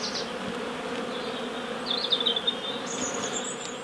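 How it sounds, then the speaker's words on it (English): A dense swarm of honey bees hums steadily inside a hive collected from a willow tree, with a constant close drone and a few higher, brighter passes of individual bees. "There is a lot of bees in here, it's an unbelievable amount."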